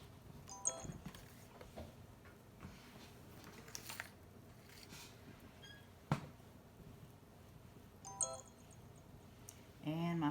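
A phone receiving text messages sounds a few short, bright tonal chimes, spaced seconds apart, over quiet rustling and handling noises while a shirt is ironed.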